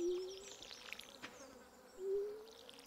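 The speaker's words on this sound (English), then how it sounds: "the sound of flies buzzing is annoying" Flies in the Stardew Valley farming game buzz steadily and faintly with a wavering drone that swells and dips, alone with no voices over it.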